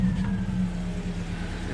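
A car engine just fired up, settling into a smooth, steady idle with a low rumble and a faint exhaust leak, close and continuous.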